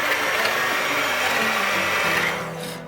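Electric hand mixer whipping cream for a watermelon cream pie, a loud, steady motor whir with beaters churning, running continuously before tapering off at the end, no voices.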